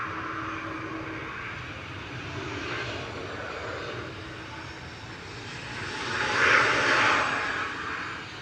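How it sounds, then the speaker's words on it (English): An Airbus A350-900 airliner at Manchester Airport, a steady distant engine roar that swells and grows louder near the end of the clip. "Just another one of the raft of A350-900s we've had come in and go out today from Manchester."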